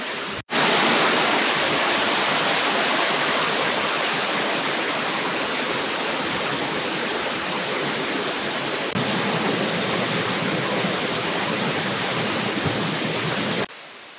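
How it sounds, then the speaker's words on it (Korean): Yongchu Falls on Juwangsan mountain pours in a loud, steady roar of falling water close by, continuous and unbroken for the whole stretch with no voices. "용추폭포입니다."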